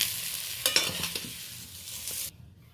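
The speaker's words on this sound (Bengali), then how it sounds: "আমি উচ্ছে, সজনে ডাঁটা আর পেঁপে ভালো করে বেশ হালকাভাবে ভেজে নিয়েছি" Bitter gourd, drumstick and papaya pieces are stirred and lightly fried, giving a bright, busy sizzle with spatula knocks and scrapes that cuts off suddenly near the end.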